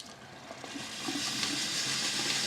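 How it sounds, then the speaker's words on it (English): Continuous hissing, sputtering rush of boiling water pouring from a tap spout, steady and close, growing slightly louder after the first second. "the flow is more energetic coming out of the spout"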